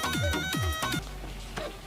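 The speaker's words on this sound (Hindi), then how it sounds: "फोन आवता फिर फोन आवता" A phone rings loudly with a repeating electronic ringtone melody, several short tonal bursts in the first second followed by a low background hum, in a Hindi-language Awadhi comedy sketch.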